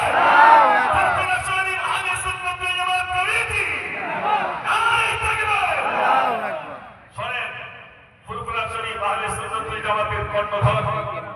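A large crowd at a gathering roars back in unison to a Nara-e-Takbir call, its loud massed shouting echoing with reverb in several waves and briefly dropping away before surging again.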